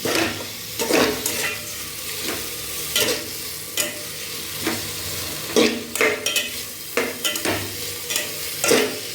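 Sliced onions and tomato frying in a pan for a spinach kulambu, a close continuous sizzle broken by repeated rhythmic scraping strokes of a spoon stirring.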